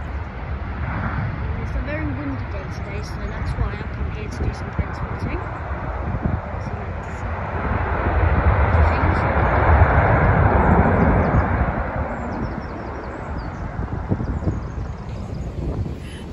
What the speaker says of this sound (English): Boeing 737 Max.